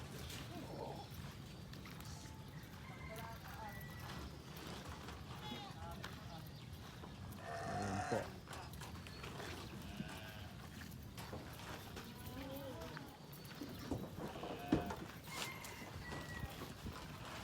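Goats and sheep are fed coconut pulp tipped from a sack into cut-down drums, with hooves shuffling and clattering, rustling and knocks, and a voice talking faintly underneath.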